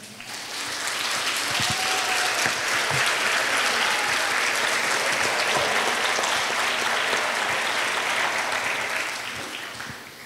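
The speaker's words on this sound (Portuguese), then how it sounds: "vamos aplaudir uns aos outros" Church congregation applauding one another during a sermon on overcoming, a loud, dense roar of many clapping hands that swells in, holds steady for several seconds, then fades out near the end.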